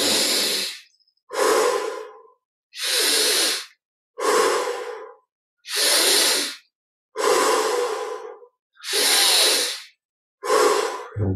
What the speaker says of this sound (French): on respire 20 fois profondément. Inspire par le nez, expire par la bouche